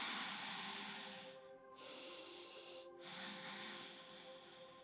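Slow, deep breaths during a backbending yoga pose in a strength-focused class, with a long airy inhale swelling into a louder hissing exhale, steady and close with a brief dip between breaths.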